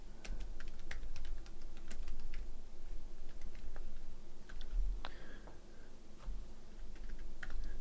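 Steady computer keyboard typing with irregular key clicks and taps, close and fairly loud over a constant low hum, while a title is entered in Premiere.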